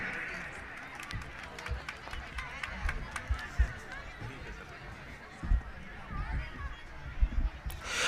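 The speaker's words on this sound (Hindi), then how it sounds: "जोरदार तालियां चलती रहनी चाहिए" A large outdoor crowd claps at a Republic Day ceremony in Kotputli, a dense, distant patter of applause mixed with crowd chatter and voices, swelling in bursts over roughly eight seconds.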